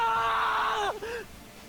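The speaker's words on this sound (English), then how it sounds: "that's the kind of scream you gotta be able to pull off, Jacob" A drawn-out, high-pitched scream from a character in the video game Danganronpa 2, loud and close, sliding down in pitch before a short wavering tail.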